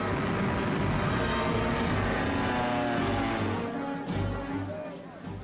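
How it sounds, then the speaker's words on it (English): World War II Stuka dive bombers and medium bombers over Poland drone loudly with steady propeller engine roar, a continuous dense rumble that eases slightly toward the end. "the Stukas and medium bombers proved devastatingly effective."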